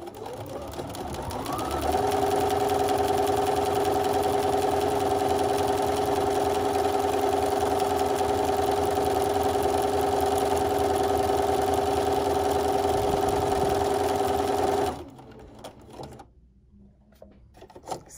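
A Bernina B 215 or 3–7 series sewing machine runs steadily while stitching a saved buttonhole from memory, a loud even motor whir with a rapid needle rhythm for about thirteen seconds before stopping abruptly into quiet.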